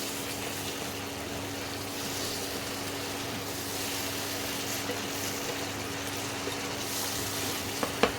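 Spices frying in oil for kesari paneer give a steady, soft, even sizzle that holds from start to finish, with no talking over it.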